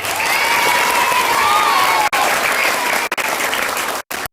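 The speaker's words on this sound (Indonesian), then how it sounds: "Tepuk tangan Darussalam kita." Audience applause at a Maulid Nabi celebration in an Islamic boarding school, steady dense clapping close by for about four seconds with brief drops near the end, a faint murmur of crowd underneath.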